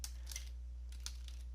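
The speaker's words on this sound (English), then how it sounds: "Hit enter on your keyboard." Keys clack on a computer keyboard in two quick clusters of taps, faint and close against a steady low hum, with no talk.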